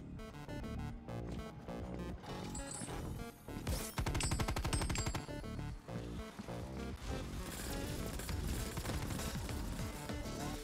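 Enemy gunfire in the arcade-style Call of Duty Black Ops Cold War Dead Ops Arcade mode: rapid, dense rattling shots and bursts packed together over loud, continuous game music and effects.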